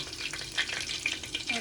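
Whole cumin, cinnamon, cloves, star anise and bay leaf fry in hot oil for a vegetable biryani, a steady close sizzle with crackling pops and light stirring scrapes.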